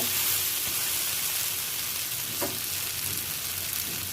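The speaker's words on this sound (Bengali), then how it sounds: "মশলার বাটি ধোয়া জলটা দিয়ে দিলাম।" Water from rinsing the spice bowl is poured into well-fried spice paste in a pan for a pointed gourd, potato and egg curry, a steady close sizzle with a brief hissing burst partway through.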